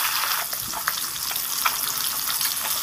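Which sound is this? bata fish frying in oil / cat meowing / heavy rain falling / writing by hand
bata fish frying in oil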